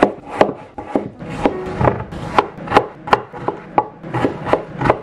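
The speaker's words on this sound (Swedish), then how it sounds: "Så jag börjar med att skära upp potatis och rödbetor i stavar." A knife cuts potatoes and beetroots into sticks on a cutting board, a series of sharp, close chops at an uneven pace, each a crisp thud with brief pauses between strokes.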